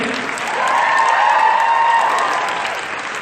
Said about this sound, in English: Another round of applause for the band.